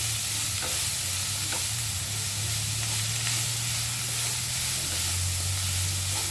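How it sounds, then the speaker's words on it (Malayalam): Tomato kurma ingredients are sautéed in a hot pan, a loud, steady sizzle and hiss of frying with faint stirring scrapes underneath, continuous and close throughout. "നല്ലവണ്ണം ഒന്ന് വഴറ്റി കൊടുക്കാം"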